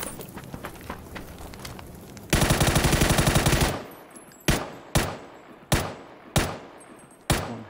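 PUBG gunfire on the Erangel map: a scatter of distant shots, then a loud sustained automatic burst, followed by five sharp, evenly spaced single rifle cracks, close and punchy.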